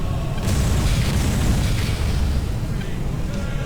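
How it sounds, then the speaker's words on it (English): Pulse lasers and a gun volley fire in a space combat video game, producing a dense, continuous roar of booming blasts and bursts that rumble steadily for several seconds without a break. "Firing those pulse lasers. And a nice hit with that gun volley."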